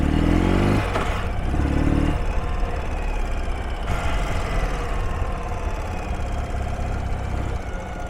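A 2013 Ural Retro motorcycle engine, freshly serviced and low-mileage, given a little throttle: a steady, loud, close running drone that swells briefly at the start, alone without talk.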